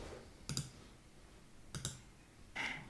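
Two sharp computer mouse clicks about a second apart, then a brighter click-like tap, as answers are selected in a true-or-false quiz; close and clear in an otherwise quiet room.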